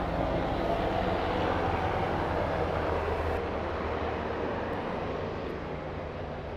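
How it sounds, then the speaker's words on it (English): A military helicopter passes overhead, producing a steady broadband rotor and engine roar that holds level for several seconds before easing slightly as it moves away. "the pilot that's going by right now in this helicopter"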